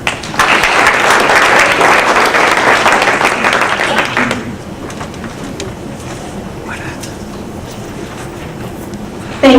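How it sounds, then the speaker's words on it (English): Audience applause at a Maryland hall of fame ceremony, a dense, loud burst of clapping filling the hall for about four seconds before dropping away to quiet room tone and a few scattered claps. "you all deserve our huge thanks and a round of applause"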